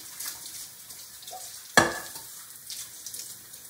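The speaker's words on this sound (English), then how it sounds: "turn your water on, stick your pan underneath." Tap water bursts onto a cooking pan held under the faucet in a kitchen sink, a sudden splashing rush midway that trails into a lighter patter.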